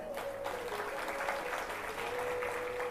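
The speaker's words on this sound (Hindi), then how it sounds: "एक बार जोरदार तालियां" Applause from a devotional discourse audience fills the space with steady, dense clapping at a moderate distance, holding evenly throughout with a faint sustained tone running beneath.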